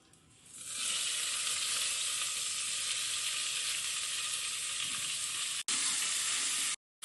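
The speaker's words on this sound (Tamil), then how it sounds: "அடுத்து இந்த வெஜிடபிள்ஸ் எல்லாம் அதில் போட்டு வதக்கிக்கலாம்" Vegetables sauté in hot groundnut oil with spices, a loud, dense sizzle that swells up after a quiet start and holds steady, broken by a brief cut near the end.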